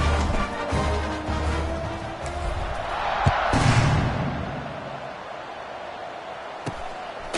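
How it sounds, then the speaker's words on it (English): A football stadium crowd buzzes steadily in a broad, continuous roar during a college game after a score, swelling briefly midway with a few sharp thuds on top. "this crowd is buzzing after that last score"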